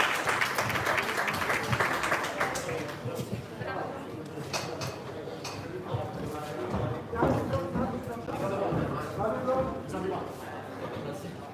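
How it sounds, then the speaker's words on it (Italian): Applause from the audience after an amateur boxing bout in Padua, Italy, steady clapping throughout with an announcer talking over it. "E adesso salutiamo appunto con bel applauso."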